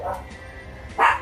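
A dog gives two short, sharp barks in a home kitchen while grilled cheese sandwiches are being cooked, close and fairly loud, separated by a brief pause.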